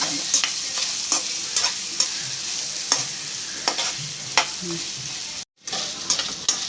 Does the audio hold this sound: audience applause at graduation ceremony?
no